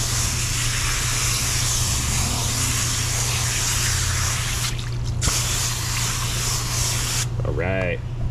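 A steady, loud hiss of a water spray rinses a pleated filter from a 2004 Chevrolet Suburban 5.3, running continuously with two brief breaks near the end.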